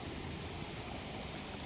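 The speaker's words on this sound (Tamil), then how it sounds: "எவ்வளோ தண்ணி வருது பாருங்கள்." Water pouring down from the Chembarambakkam dam sluice gate, a dense, steady rushing roar that fills the whole moment without any break.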